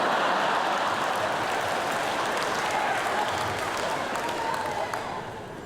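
An audience at a college anniversary celebration claps and cheers in a dense, steady wash of applause that fades slightly at the end.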